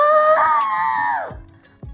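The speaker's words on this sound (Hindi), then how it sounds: "तभी दरवाजे के बाहर से किसी के चिल्लाने की आवाज आई।" A woman's long, sustained scream in a horror-romance audio drama, sliding down in pitch before cutting off, loud and close, followed by a brief thud; meant to come from outside a door at night.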